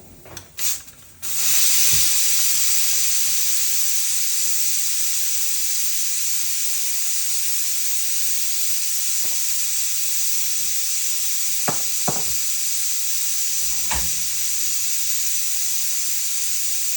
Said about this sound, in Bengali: এই দেখো আমার ডিমগুলা বলক আসছে।